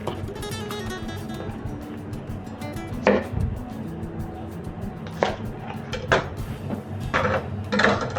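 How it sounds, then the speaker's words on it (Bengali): A knife chopping spring onions on a cutting board while preparing vegetable pakora, with scattered sharp knocks at irregular intervals over a steady kitchen background. "এই দুটো পেঁয়াজ কলিকেও ঠিক এইভাবে কেটে নিচ্ছি।"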